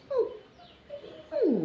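A dog whimpers softly in a few short, faint, high whines spread across under two seconds, with quiet pauses between them.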